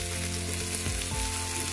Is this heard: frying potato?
yes